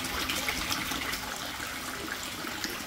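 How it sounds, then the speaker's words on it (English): An aquarium air pump bubbles water in an experimental greenhouse fish tank, giving a steady close wash of gurgling and trickling that runs throughout without talk. "You can see the little water bubbling underneath."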